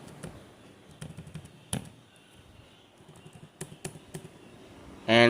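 Fingers type a command on a laptop keyboard in quick, irregular clusters of light taps, ending with a firmer, louder keystroke as enter is pressed.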